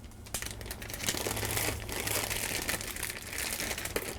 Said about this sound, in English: Comes in a Ziploc bag.